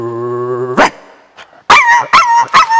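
A comedian's voice imitates a dog: a steady howl-like tone, then a sharp yelp and several loud, close barks in quick succession, performed alone on a stage comedy show.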